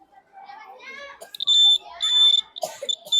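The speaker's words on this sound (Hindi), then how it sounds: "ये है अर्थक्वेक अलार्म।" Earthquake alarm demonstrated at a children's fair, giving loud, steady high-pitched electronic beeps in several bursts, interleaved with people talking nearby.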